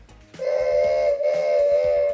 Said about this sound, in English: Let's hear that whistle one more time.